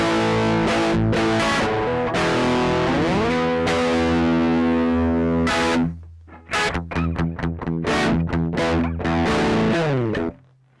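An electric guitar played through a Marshall MGP9004 preamp with the gain turned high, heavily distorted sustained chords ringing out, then a stretch of choppy, rhythmic strummed stabs before a final cut-off.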